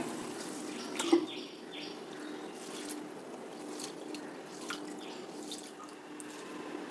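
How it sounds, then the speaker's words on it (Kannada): Rice, poha and fenugreek seeds are washed in water, a faint, steady splashing and trickling with occasional drips, close by and without talk. "ಇದನ್ನು ಇವಾಗ ನೀರು ಹಾಕಿ ಚೆನ್ನಾಗಿ ಎರಡು ಸಲ ವಾಶ್ ಮಾಡ್ತೀನಿ"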